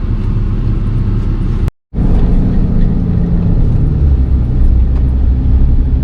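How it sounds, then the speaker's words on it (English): Steady road noise from a car driving along a road, a continuous rumble of tyres and engine heard from inside, with a brief dropout partway through and no talk. "So we're driving the short distance to the car wash"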